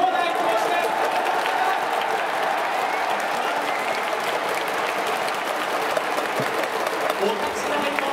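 A stadium crowd at a Chunichi–Hanshin baseball game roars and applauds steadily for a pitcher after his first professional win. The dense, continuous noise rises and falls slightly and carries faint talk within it.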